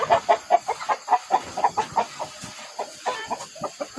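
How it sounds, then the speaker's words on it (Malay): Chickens in a coop cluck repeatedly in quick, rhythmic bursts, fairly close, with other birds chattering faintly in the background. "ayam ni dia cempura lah sikit dia tak bisa tengok kita ada buat kerja ni"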